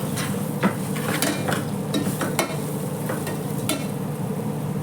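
Dried red chillies, green chillies and spices sizzle in a hot tempering pan as a spoon stirs, with a steady frying hiss and sharp metallic scrapes and clinks heard close up, no voices.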